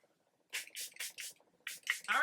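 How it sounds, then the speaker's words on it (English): Charlotte Tilbury setting spray misted from a bottle in a series of short, close pumped bursts, about six sprays with brief pauses between, faint background otherwise. "this is probably the last of my Charlotte Tilbury setting spray from this bottle"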